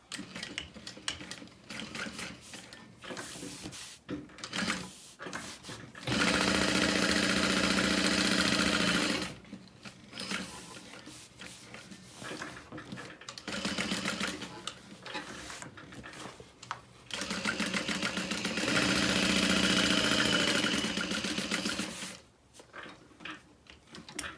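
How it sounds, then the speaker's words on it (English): Domestic sewing machine top stitching around the outer edge of a handbag, running in two long steady buzzing bursts separated by pauses with small handling clicks and fabric shuffling. "I'm going to top stitch around the outer edge, starting at the short flat side"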